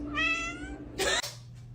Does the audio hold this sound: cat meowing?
yes